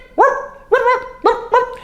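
A human voice imitates a small dog's shrill, annoying yip, four sharp yaps in quick succession, loud and close with no other sound.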